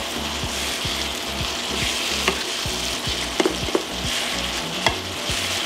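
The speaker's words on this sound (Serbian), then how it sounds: "I to ću sada sve lepo promešati, da se ovi začini lepo sjedine sa mesom i da puste svoj ukus" Minced meat with ground spices and paprika frying in a pan, a steady close sizzle with the utensil scraping and stirring in repeated strokes and a few sharper clicks against the pan, no talking.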